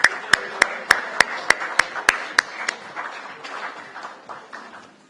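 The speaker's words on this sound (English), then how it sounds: "Let's have another round of applause once again." A single person claps in a steady rhythm at an automotive dealers' association event in Delhi, about a dozen sharp, close claps that soften and blur into light scattered applause.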